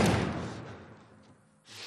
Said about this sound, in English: Barricade the doors.